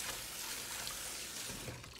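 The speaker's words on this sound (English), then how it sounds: "just swish it around, nothing major. You just want the iodine to come in contact with every surface of it. Rinse it out" Water swished and rinsed through a homebrewing funnel with iodine sanitizer, a steady close trickling and pouring that tapers off near the end.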